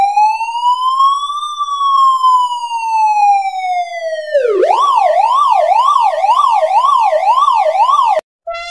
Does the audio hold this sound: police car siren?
yes